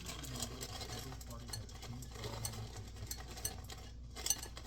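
A spoon stirs sugar-free chocolate chips into thick keto cookie dough in a bowl, giving soft, faint scraping and clicking close by with no talk.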